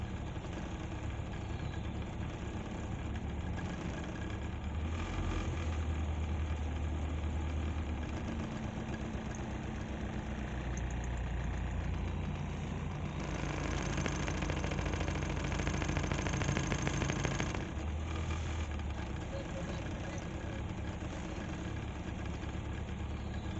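A car engine with an idling problem, treated with Seafoam Engine Treatment, runs at a steady close rumble for the whole stretch, swelling and dropping slightly as the revs rise and fall, with no talking.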